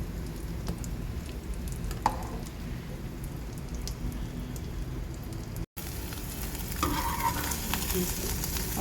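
An egg fries on a stove with a steady, close sizzle and light popping that runs on throughout, broken only by a brief gap near the middle.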